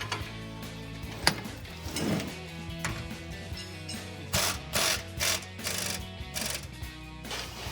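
A wrench tightens a bolt on an adjustable upper control arm of a Jeep Wrangler TJ, giving irregular bursts of ratcheting clicks close by, with short pauses between pulls.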